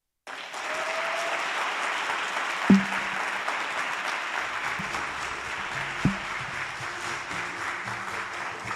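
Audience applause at a youth weekend event in the Northern Cape, sustained crowd clapping from a large group with a couple of sharp thumps along the way.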